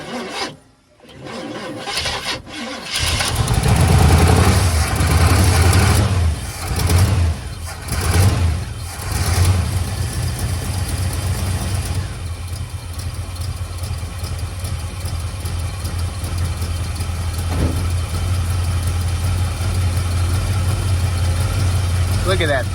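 Engine of a 1978 GMC truck, unused for 17 years and fitted with a new fuel filter, cranks and catches, then settles into a steady, loud, close rumbling idle that continues throughout, with people talking over it.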